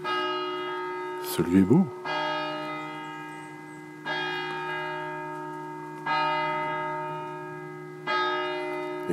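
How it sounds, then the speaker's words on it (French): Church bells toll slowly in a remote French village, one deep resonant strike every two seconds or so, each ringing out and fading; a short spoken remark breaks in early. "Les cloches."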